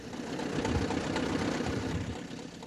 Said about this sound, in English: 1941 Minneapolis Moline Model R. She was the first tractor the Mercer family ever owned